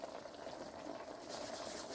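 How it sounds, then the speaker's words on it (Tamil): Mushroom masala boils in a pan, giving a steady, dense bubbling and sizzling hiss that holds close and even throughout, with no voices. "அது நல்லா கொதிச்சு வரட்டும்"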